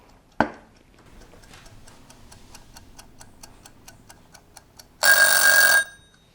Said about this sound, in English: So you set your timer for 20 minutes